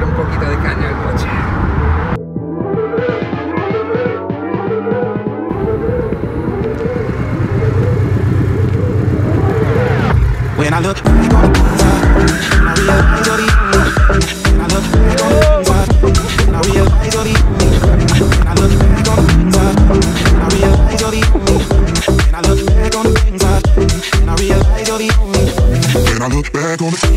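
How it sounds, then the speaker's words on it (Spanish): A Porsche 718 Boxster convertible engine is driven hard. A low rumble builds into loud, rising revs that climb repeatedly and dominate the scene. "ahora vamos a darle un poquito de caña al coche"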